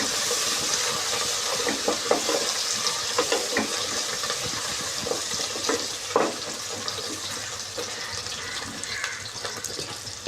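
Onions sauté with fresh mint and coriander in a pan for fish biryani, producing a steady moderate sizzle and hiss with scattered stirring clicks and scrapes throughout.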